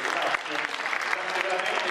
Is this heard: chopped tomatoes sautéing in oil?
no